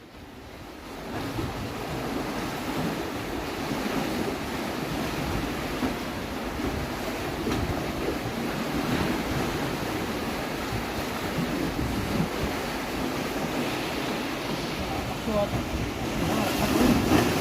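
Sea waves wash steadily onto a shore during a fishing outing, a continuous broadband surf roar with gusts of wind noise against the microphone, holding at a fairly constant level for the whole stretch.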